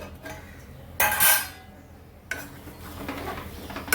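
A lid lifted off a cooking pot of steamed vegetables, a sharp metallic clatter followed by a softer scrape and knock of the lid being set down, close by over a quiet kitchen.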